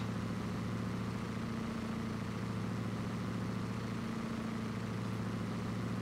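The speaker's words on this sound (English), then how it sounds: "the neighbor's home in his damn drag car" A neighbor's drag car engine idles with a steady, deep, throbbing rumble that holds an even pitch for several seconds, continuous and fairly close, with no voices over it.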